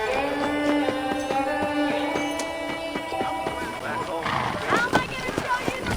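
Saddled horses in the video game Red Dead Redemption, rhythmic hoofbeats trotting under game music and a voice, with louder clopping near the end.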